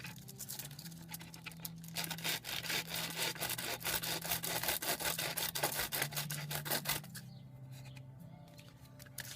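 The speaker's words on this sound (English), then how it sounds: "So let me sand that down a little." A robot visor piece sanded down by hand, with rapid, steady back-and-forth scratchy strokes for several seconds, close and fairly loud, stopping abruptly near the end.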